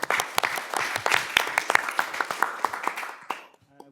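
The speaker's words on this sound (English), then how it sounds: "Applause for the presenter, please." Applause from a conference audience at an academic session on digital regulation, a dense patter of many hands clapping that thins out and fades to a few scattered claps before stopping.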